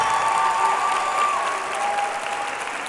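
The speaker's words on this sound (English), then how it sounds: "can we please give a round of applause to our parents" Sustained applause from a commencement audience honoring parents, a steady broadband clapping wash that holds for the whole stretch and eases slightly toward the end, with a faint murmur of crowd voices underneath.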